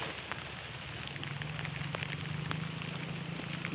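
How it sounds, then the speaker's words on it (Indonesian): Steady rain falls over a coffee garden where bird's-eye chilies grow, a dense continuous patter with scattered sharper drop hits, moderately loud and alone without voices. "Jadi saat ini hujan juga sedang melanda daerah kami."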